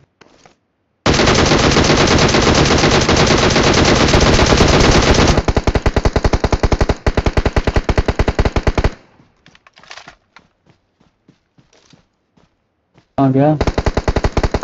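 Loud, close automatic gunfire from a video game fires in long sustained bursts, then breaks into rapid single shots and scattered pops, and a second burst begins at the end while a voice speaks briefly.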